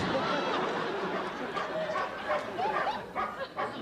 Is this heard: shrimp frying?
no